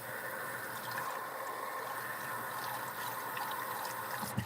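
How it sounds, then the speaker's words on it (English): A home water heater switches on with a steady low rush of filling water and a faint hum, constant and moderately quiet throughout, with a small knock near the end. "My water heater is turning on sync."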